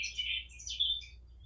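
A person imitates bird chirping with their voice: a few quick, high, thin tweets in two short bursts, fairly quiet over a low background hum.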